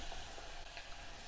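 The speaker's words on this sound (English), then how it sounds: "You can see the onion is sizzled immediately." Onion bhaji fritters sliding into hot oil, giving a soft, steady sizzle and crackle, faint and continuous with no voices.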